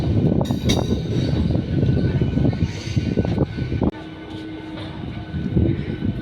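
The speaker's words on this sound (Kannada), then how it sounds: "ನಮ್ಮ ಟ್ರೈನ್ ಈಗ ಪ್ಲ್ಯಾಟ್ಫಾರ್ಮ್ 3ಕ್ಕೆ ಬಂದಿದೆ" A passenger train pulling into Yelahanka junction, heard from on board as a loud, steady rumble of wheels and carriages that drops abruptly partway through to a quieter hum.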